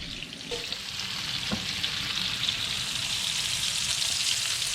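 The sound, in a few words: meatballs frying in a pan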